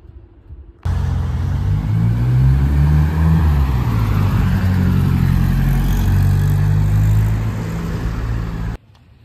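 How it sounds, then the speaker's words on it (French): A black Audi RS6 C7 with its 560-horsepower V8 rumbles loudly and steadily close by for about eight seconds, a deep sustained engine drone that starts abruptly and cuts off sharply, with no talk. "Regardez, petite Audi RS6 C7, config classique noir jante grise avec tout le pack aluminium. Et sinon on connaît un V8 560 chevaux."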